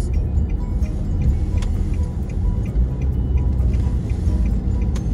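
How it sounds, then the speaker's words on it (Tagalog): Heavy road traffic near a neighborhood Walmart rumbles steadily from inside a vehicle, with a loud low engine drone and faint regular ticking like a turn signal. "daming sasakyan guys"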